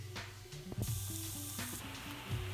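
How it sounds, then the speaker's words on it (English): Apple cider vinegar fizzes and crackles as it is poured into Aztec healing clay, a soft, close hiss mixed with small bubbling pops and some stirring clinks. "It starts to fizz up."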